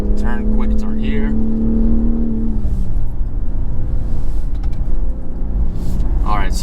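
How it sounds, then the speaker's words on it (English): The engine of a 2023 BMW X3 M40i drones and revs while driving on twisty roads, a steady hum that shifts partway through into rougher road and wind noise, with someone talking over it. "so the engine is just amazing here"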